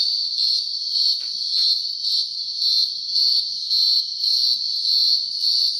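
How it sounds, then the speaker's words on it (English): A cicada buzzes in a continuous high, pulsing drone that rises and falls in regular beats, loud and steady with no talking. "It's a cicada."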